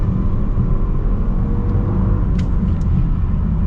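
An Audi A8 L turbo engine accelerates, giving a steady, loud, close low rumble from inside the car that holds an even level throughout, with faint higher whines passing over it.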